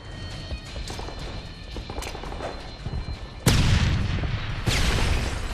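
A grenade blast in a Call of Duty Modern Warfare 3 match, a sudden loud boom cutting through busy game noise, followed by a second burst and lingering rumble.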